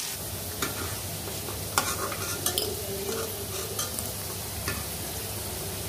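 Potato pieces salted and frying in oil give off a steady, soft sizzle, while a utensil stirs them with occasional scraping clicks against the pan. No one speaks.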